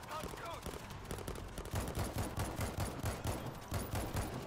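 Sustained automatic gunfire from a machine gun in the zombie shooter World War Z, France mission, a dense rapid stream of shots rattling on continuously and steadily across the clip amid other game noise.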